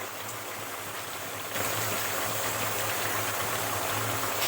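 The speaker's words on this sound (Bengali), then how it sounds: "একটু মশলা ধোয়া জল দিলাম" Spice-washing water poured into a pot of chicken curry being cooked for chicken biryani, a steady rushing, splashy pour that starts partway through and keeps going, with no talking.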